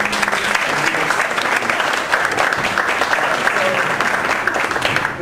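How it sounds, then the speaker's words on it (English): Audience applause for a speaker being introduced at a morning meetup, a dense, steady wash of many hands clapping that holds at full strength for the whole stretch, with a few crowd voices mixed in. "Please give him a big round of applause"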